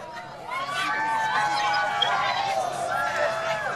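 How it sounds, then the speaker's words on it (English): Solar eclipse crowd rising in a swell of cheers and excited voices as totality arrives, steady and moderately distant, with overlapping shouts and whoops throughout. "let's listen to the crowd as this goes into totality"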